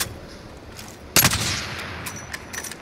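Gunfire in a battle royale video game, a sudden loud burst of shots after a quiet stretch, followed by scattered fainter shots trailing off.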